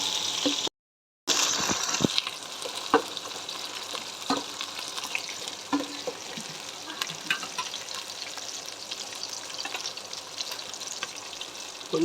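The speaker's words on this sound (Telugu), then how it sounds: "లైట్గా బ్రౌన్ కలర్ వచ్చే వరకు మనం ఆనియన్స్ను పచ్చిమిర్చి ఇలా వేయించుకోవాలి" Onions and green chillies frying in a pan, a continuous close sizzle with scattered stirring clicks, a brief gap near the start.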